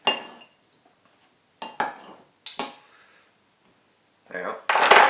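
A knife clinks and scrapes against a bowl while hot microwaved potatoes are cut through the middle, several short, sharp clatters separated by quiet gaps, ending in a louder scraping burst.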